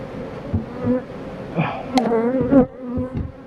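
Close, droning buzz of honeybees at an apiary with wavering pitch as insects fly past, plus a few soft knocks and rustles.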